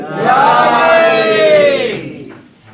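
A crowd at a religious gathering for Ayyam-e-Fatimiyya shouts a Haidari slogan in unison, one loud drawn-out collective cry that swells, holds and fades over about two seconds, with a brief murmur after.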